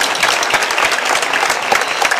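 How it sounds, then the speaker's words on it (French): An audience bursts into dense, steady applause, loud and close throughout, with no voices over the clapping. "je vous demande d'applaudir"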